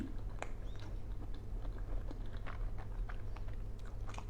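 Someone chews crispy pork skin close to the mic, with repeated crunchy bites and wet mastication in an uneven rhythm and no speech.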